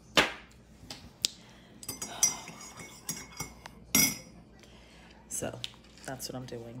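Plastic peppermint spoons clinking and clattering in irregular bursts as they are sorted through, close and crisp, under intermittent talk.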